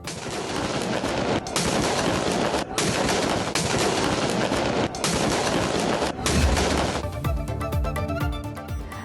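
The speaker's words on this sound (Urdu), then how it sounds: "صوبائی دارالحکومتوں میں 21 توپوں کی گونج" A 21-gun cannon salute fired in provincial capitals to mark Eid Milad un Nabi, heard as loud, dense, rapid rolling blasts that run continuously before giving way to music.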